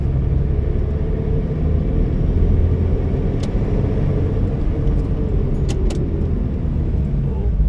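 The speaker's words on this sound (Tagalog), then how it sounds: "May sasakyan nakasalubong." An oncoming car passes on a highway during a drive toward Manila, heard as a steady, loud road and engine rumble from inside the moving vehicle, with brief faint clicks and no clear voices.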